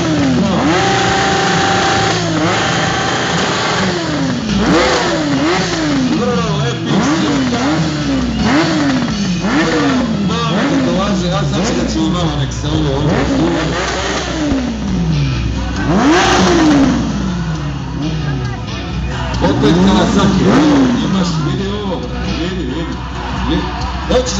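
A motorcycle engine revs again and again at a motorcycle meet, rising and falling in quick repeated bursts over a steady idle rumble, with people talking in the background throughout.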